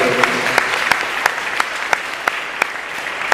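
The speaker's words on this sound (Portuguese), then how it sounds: "Esse homem merece uma salva de palmas" Church congregation applauding during a sermon, a steady, full round of clapping from many people, with a few sharper claps standing out at regular intervals, loud and continuous throughout.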